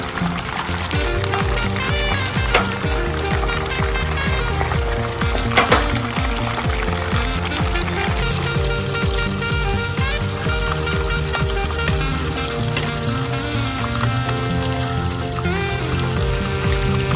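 Wild Atlantic cod cutlets fry in a pan with a loud, steady sizzle that runs unbroken throughout, close and dense, with a few brief clatters partway through.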